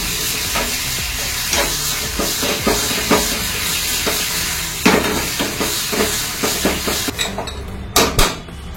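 Green chilli thecha sautéing in ghee in a small pan, with a steady close sizzle throughout and repeated spatula stirs and scrapes against the metal, louder knocks near the end.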